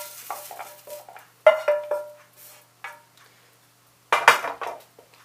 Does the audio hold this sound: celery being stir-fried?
yes